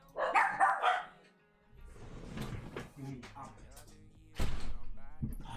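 A dog barks in several loud bursts, first a quick cluster and then more scattered barks, with someone talking in between during a trading livestream.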